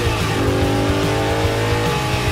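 Race car engine at full throttle, a loud, close, sustained roar with rising pitch as it accelerates hard.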